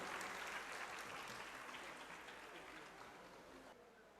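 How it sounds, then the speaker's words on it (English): Applause from the audience at a school valedictory function welcoming a guest, steady dense clapping from a crowd, faint and somewhat distant, tapering slightly toward the end. "Can we have a big round of applause for Madam"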